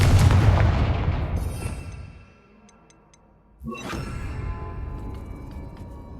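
Confringo fire spell in the video game Hogwarts Legacy, a heavy booming blast that fades over a couple of seconds, a short lull, then a second sharp burst with rumbling aftermath and faint ticking game effects.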